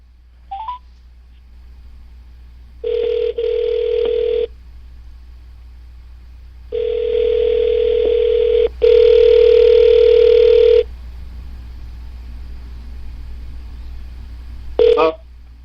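Telephone touch-tone dialing and connection tones while a conference call is being merged: several long steady tone bursts separated by gaps, with brief chirps at the start and end, loud and clear over a faint hum.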